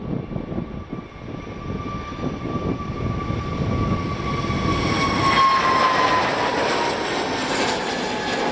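An EasyJet airliner at Faro Airport bound for Amsterdam Schiphol: a jet engine roar builds and swells over several seconds, with a thin high whine running through it, heard from a distance and without talk.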